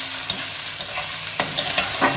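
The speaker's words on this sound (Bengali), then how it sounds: "দিয়েও আমি 2 থেকে 3 মিনিট পেঁয়াজটাকে ভেজে নেব" Chopped onion fries in a pan for chicken keema ghugni, a steady close sizzle broken by a few short stirring scrapes.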